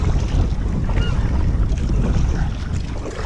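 Strong wind gusting against a small fishing boat being paddled on open water, a loud continuous roaring buffet with microphone wind noise and water sounds, no talk.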